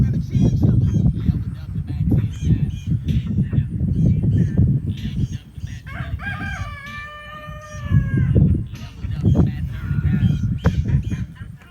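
A rooster crows loudly once in the middle, set against steady outdoor rustling and low background noise.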